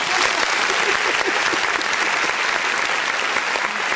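Canned applause from a crowd plays steadily and loudly for four seconds, a dense wash of clapping with no pauses and no talk over it.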